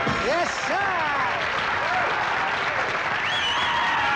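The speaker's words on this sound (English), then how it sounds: "A nice round of applause." Audience applause at a comedic pageant, a dense continuous wash of clapping at steady volume, with voices and whoops rising above it near the start and again toward the end.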